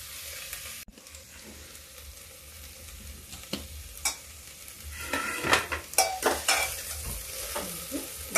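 Mixed vegetables with peas fry in a pan, giving a steady low sizzle broken by utensil stirring and scraping that grows louder and busier in the second half, with no talking.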